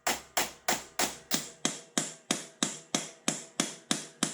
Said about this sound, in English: using a drift punch with a very large hammer on the side